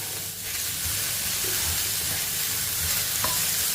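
Capsicum and carrot stir-fry in a pan with a steady close sizzle and hiss, broken by occasional scraping stirs, with no one speaking.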